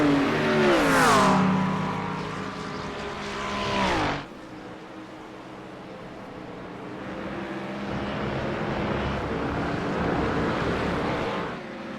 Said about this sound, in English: Mike Marshall sitting right behind Garman, trying to get the slingshot trying to stay in the slipstream